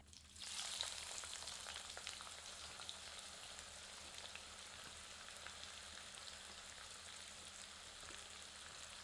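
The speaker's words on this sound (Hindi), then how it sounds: "आंच मध्यम रखते हैं और प्याज को भूनते हैं" Steady crackling sizzle of onions frying over medium heat in a hot pan, a bright hiss that flares briefly at the start then settles into continuous popping.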